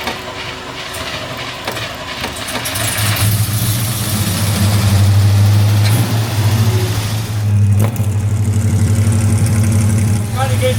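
A truck engine runs at high idle, a loud steady low drone that swells a little and holds, with people talking over it.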